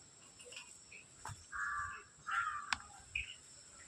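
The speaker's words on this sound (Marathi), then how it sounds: "विविध पक्षी आहेत" Crows caw several times at Bannerghatta Biological Park in Bangalore, a few scattered calls at moderate distance over a faint outdoor background, with no one speaking.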